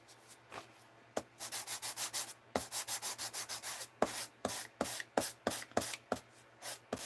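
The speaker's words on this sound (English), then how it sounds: "you're sanding all the detail away." Sanding block rubbed over a stamped image on a card, a quiet series of rhythmic scratchy back-and-forth strokes, some in rapid bursts and others spaced apart, with no talk.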